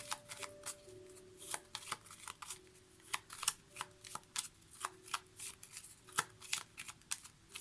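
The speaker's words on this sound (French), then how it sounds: "on commence avec une petite carte des oracles" A deck of oracle cards is shuffled by hand, a close, rhythmic run of crisp riffling snaps repeating steadily with soft rustles between them.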